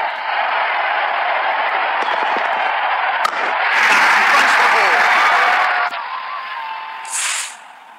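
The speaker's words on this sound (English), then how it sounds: "The stadium applaud." Stadium crowd at a Bangladesh versus Canada cricket match applauding a batsman's fifty, a dense sustained roar of clapping and cheering that swells midway and then eases, with commentary voices layered in.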